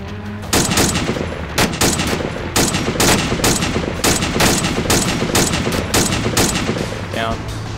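Rifle and machine-gun fire at an enemy in a 1944 Chernarus battle game, loud, close bursts of shots repeating in a rapid, uneven rhythm for several seconds.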